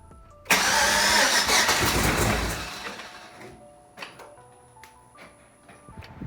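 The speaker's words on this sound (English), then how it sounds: "I'm just gonna hop in real quick and give it a quick start to show you" A rebuilt Chevrolet LS V8 in a third-generation Tahoe cranks and fires, roaring loudly up close for a couple of seconds before settling into a quieter idle with ticking clicks.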